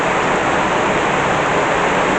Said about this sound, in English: It's just raining so hard.